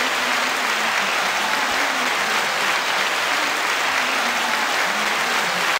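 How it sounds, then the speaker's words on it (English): A canned applause sound effect dropped into a podcast, a dense, even wash of clapping and crowd noise at constant loudness that runs for nearly six seconds and then cuts off sharply. "Hit the applause."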